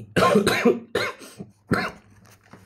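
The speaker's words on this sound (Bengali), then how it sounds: "আমার প্রচণ্ড রকমের কাশি" Three heavy coughs come one after another, close and loud, from someone with a bad cough, with short pauses between them.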